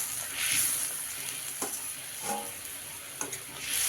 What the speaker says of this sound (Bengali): তো এক এক করে আমি মাছগুলো দিয়ে দিই।